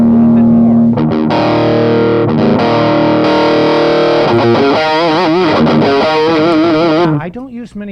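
Electric guitar played through a Sawtooth 20 watt tube amplifier with a high-gain metal tone, loud and sustained, with held chords, then vibrato-bent notes and fast runs at the end.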